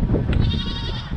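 A goat bleats once, close and loud, in a single wavering, nasal cry that lasts about a second.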